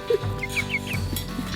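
Short, chirpy chicken clucks repeat a few times, close by, with no talk.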